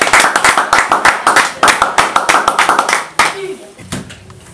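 A small group applauds with quick, uneven hand claps, loud and close, in a continuous burst that tapers off near the end before a brief quiet tail.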